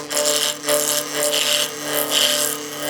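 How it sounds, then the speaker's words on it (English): The long point of a skew chisel cuts a spinning wood spindle on a lathe, giving a loud, continuous rasping hiss that swells and fades in repeated passes over the steady hum of the machine. "take the long point of the skew, go the opposite direction, starting again from the corner"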